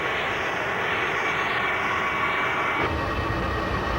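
A military S-3 aircraft's jet engine roars steadily throughout, a loud continuous broadband drone with a faint wavering whine and a slight shift in tone near the end.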